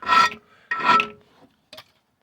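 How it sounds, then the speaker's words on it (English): Hand hone scraping burrs from the upper control arm axle bushing hole on a passenger-side Jeep XJ: three short, close rasping strokes, the last one brief, with quiet gaps between. "I'm just going to hone out this hole, take off any burrs."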